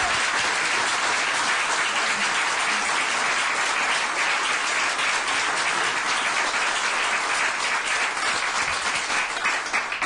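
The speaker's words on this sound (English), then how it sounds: "let's have another rousing round of applause for all of these" Sustained, dense applause from an audience at an election debate, loud and even for the full ten seconds with no pauses.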